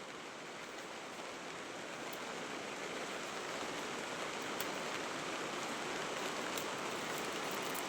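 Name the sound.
heavy rain falling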